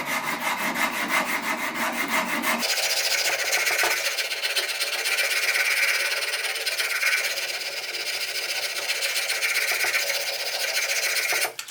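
Wood is worked with a rasp and file, rough rhythmic scraping strokes that continue steadily and close by, shifting from a coarser rasping start to a brighter, finer rubbing texture.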